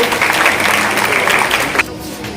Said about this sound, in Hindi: जोरदार ताली बजाएं। ताली बजाने में कंजूसी नहीं होनी चाहिए।